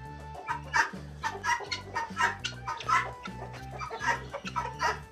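Guinea fowl call repeatedly on a Turkish poultry farm, loud nearby squawks that come in quick, uneven bursts over a low, steady background tone.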